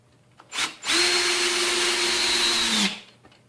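Ryobi 18-volt cordless drill driver driving a screw, a loud whining motor that spins up briefly, then runs steady for about two seconds before winding down, close by with no hammering rattle.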